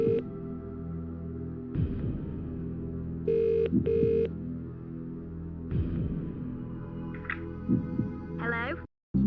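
Phone-a-friend call in the PS2 game Who Wants to Be a Millionaire 2nd Edition: repeated electronic ringing tones in several bursts over a low musical hum, ending in a brief cutoff before the line connects.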